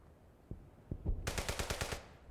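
Enemy gunfire in the shooter Brothers in Arms: Hell's Highway: a few scattered single shots, then a quick burst of about eight evenly spaced automatic rounds, fairly close and loud.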